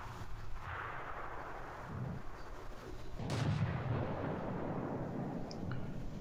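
Tank cannon fire in World of Tanks during a T-34-85 battle: a single booming shot bursts out over a steady low engine rumble, with the blast's rolling tail fading into the background drone.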